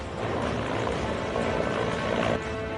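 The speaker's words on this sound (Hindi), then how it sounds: "वायुसेना का हेलीकॉप्टर देखकर इन्हें सुकून आ गया" Indian Air Force rescue helicopter hovering over floodwaters, a steady loud rotor and engine roar that continues throughout.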